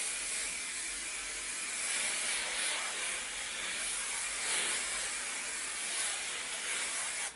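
A continuous hissing spray of hairspray runs for several seconds, close and moderately loud, with slight pulses as the nozzle is pressed.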